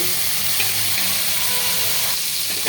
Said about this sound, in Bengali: পটলটা ভাজা হয়ে গিয়েছে, এবার নামিয়ে ফেলবো।